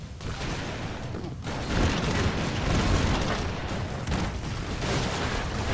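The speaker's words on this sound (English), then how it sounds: "Wait for the explosions to stop" Dense, continuous bursts of pixel-art explosions and gunfire from the side-scrolling action game Broforce, loud and unbroken throughout with booming blasts and crackling fusillades layered together.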